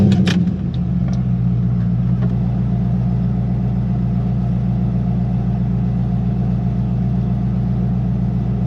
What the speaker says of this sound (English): Let's go ahead and fire it up and see how it sounds.